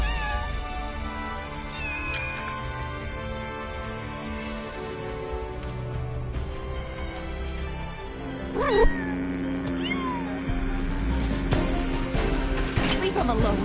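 A cat in the video game Final Fantasy VII Rebirth meows several times, some meows drawn out and wailing, over game music with mechanical clicking and ratcheting sounds.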